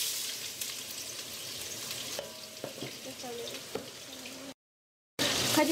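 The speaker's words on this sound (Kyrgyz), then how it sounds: "Азыр болсо бул пияз менен этти биринчи кууруп" Onion and meat frying in a pan give a steady, close sizzle with a few clinks and scrapes of stirring, then a short silent gap before the sizzle resumes.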